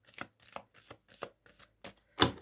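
A deck of cards is riffled in a series of quick, crisp bursts, about seven short shuffles with a louder final one, close by.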